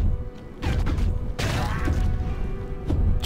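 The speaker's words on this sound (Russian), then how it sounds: "О, как взрывается, как хлопушки там" Explosions in the zombie game Dead Ahead: Zombie Warfare, a few loud booming bursts and crashing thuds breaking out at intervals over a low rumbling background, with no talking.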